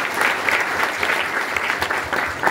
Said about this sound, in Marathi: त्या सह्याद्रीच्या बेल्ट साठी आपण जोरदार टाळ्या दिल्या